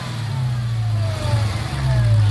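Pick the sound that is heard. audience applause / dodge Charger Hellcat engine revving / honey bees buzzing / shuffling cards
dodge Charger Hellcat engine revving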